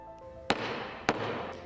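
A gavel bangs twice at a 2024 vice-presidential debate between JD Vance and Tim Walz. The two sharp, loud, gunshot-like cracks land about half a second apart, and a hum of room noise fills the gap between them.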